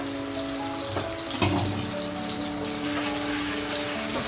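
A ground tomato paste for fish curry goes into a hot pan and sizzles steadily, with a brief louder splash as it lands early on, then a constant crackling hiss and faint humming tones underneath.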